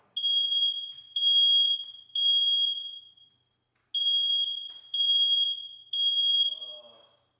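A smoke alarm goes off indoors with loud, piercing high beeps in two bursts of three long tones separated by a short pause, with faint voice at the very end.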